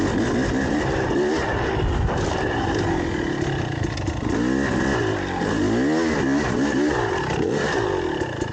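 A 2024 TX 300 two-stroke dirt bike fitted with a flywheel weight runs loud and close throughout, its engine note rising and falling as the throttle is worked. No voices are heard over it.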